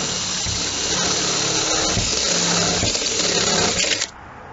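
A power drill bores pilot holes into a vehicle roof while fitting a hatch, a loud continuous whirring grind that runs steadily for about four seconds before cutting off abruptly.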